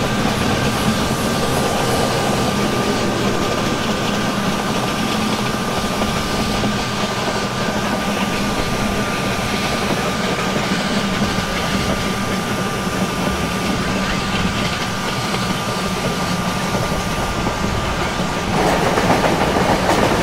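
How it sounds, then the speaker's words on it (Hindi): Mumbai slow local train from Thane to CST running steadily in the Open Rails simulator, with a constant rumbling roll, faint clickety-clack and a high steady whine, loud throughout. "Thane CST slow local train"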